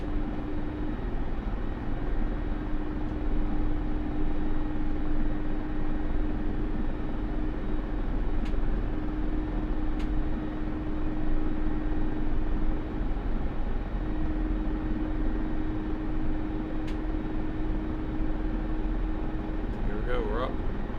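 Helicopter in a flight simulator game takes off, a steady droning rotor and engine hum with a constant tonal whine running throughout, with a few faint clicks over it.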